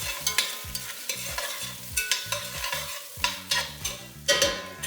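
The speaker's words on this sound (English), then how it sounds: "Just gonna brown it a little bit." Meat browning in a pan with stock for tacos, stirred with quick repeated scraping strokes over a constant close sizzle.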